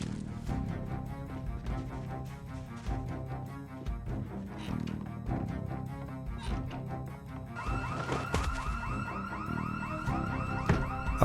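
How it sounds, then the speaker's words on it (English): A house alarm rings with repeated wavering electronic tones in the Project Zomboid zombie game, starting partway through and rising over a dense bed of ongoing game sound and music. "A house alarm was echoing through the street too"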